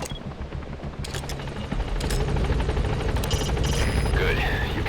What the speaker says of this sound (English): I can hear the chopper.